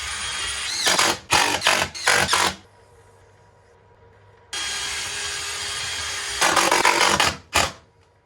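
A power saw cutting a melamine-faced board for a boat speaker box, several loud harsh bursts of cutting separated by quiet idle pauses, then a long sustained cut ending in more short bursts, close with no talk.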